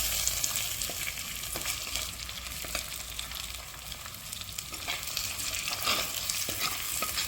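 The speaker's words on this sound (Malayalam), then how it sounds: "തക്കാളി ഒന്ന് നല്ലോണം വഴന്ന് വെക്കണം." Tomatoes sauté in a pan for Kerala-style mutton curry, a soft continuous sizzle broken by scattered light clicks of stirring, fairly quiet with no voices.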